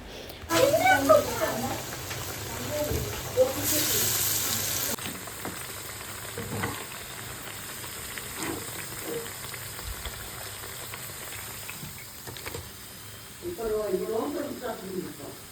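Masala vada frying in hot oil, a steady close sizzle and bubbling hiss that runs throughout, with a voice talking over it at times.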